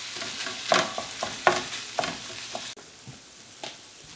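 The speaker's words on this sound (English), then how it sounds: "You wanna break it apart finely, so I always use this thing to mash up my meat." Sausage meat fries in a hot pan while a masher breaks it apart, with rhythmic scraping and pressing strokes over a continuous sizzle, close and fairly loud, and no talking.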